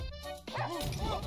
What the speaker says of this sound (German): erstmal den Hund, den Bär angebellt, damit er mir nicht auf den Keks geht